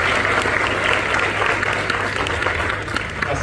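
Dense, sustained applause from a large audience at an anniversary ceremony honouring the national police, a loud continuous wash of many hands clapping with faint crowd murmur underneath.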